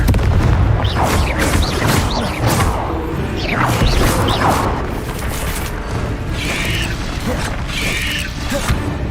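Confringo fire-blast spells cast in combat in Hogwarts Legacy, likely against a giant spider, with repeated booming impacts and crackling, clattering debris over dense continuous game noise, loud and close throughout.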